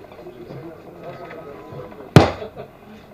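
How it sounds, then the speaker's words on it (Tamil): A single sharp firecracker bang cracks out at an event hall gathering, loud and sudden after a stretch of low crowd murmur, then fading quickly. "பட்டாசு வெடிக்குது."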